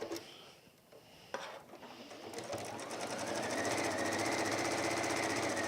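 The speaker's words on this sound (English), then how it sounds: "So just stitching down the sides" Sewing machine stitching down the sides of a fabric gardener's kneeling cushion: a few soft handling clicks, then the motor spins up into a steady, loud, rapid needle whir that continues to the end.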